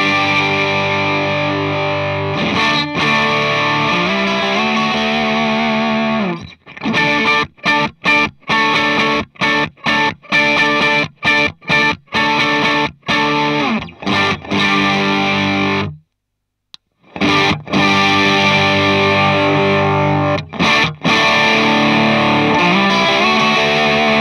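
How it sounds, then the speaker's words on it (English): An electric guitar runs through overdrive pedals such as a Cusack Screamer, Little Green Wonder or Timmy set to high gain, playing crunchy sustained chords and choppy stabs with brief pauses, loud and close with no talking. "We've changed it to some higher gain settings now, so you can hear a bit more of the character coming from the pedal."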